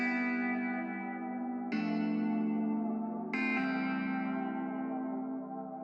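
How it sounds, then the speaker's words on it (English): Guitar-type layer panned right in an FL Studio production: three struck chords, each ringing and slowly decaying before the next, washed in chorus, echo and reverb, loud and alone without any talking. "A guitar type of sound."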